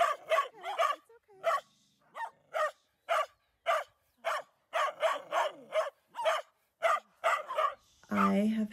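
Dogs in Ecuador barking in a steady series of loud, close barks with short gaps, a few yips and whimpers among them, ending in a whiny, drawn-out call.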